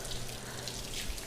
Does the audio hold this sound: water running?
yes